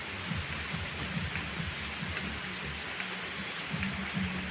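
Steady rain falls in the Bicol region of the Philippines, a continuous dense patter on surfaces with no voices.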